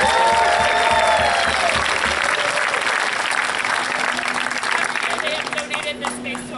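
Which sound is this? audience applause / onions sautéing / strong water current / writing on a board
audience applause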